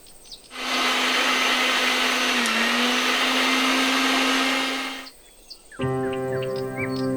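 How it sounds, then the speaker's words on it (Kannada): A mixer grinder whirs loudly and steadily for several seconds while grinding masala paste for a bamboo shoot curry, stops, then a second burst of grinding starts. "ಇದು ಬೇಯಲಿ ಅಷ್ಟರಲ್ಲಿ ಮಸಾಲೆ ರುಬ್ಕೊಂಡು ಬರೋಣ"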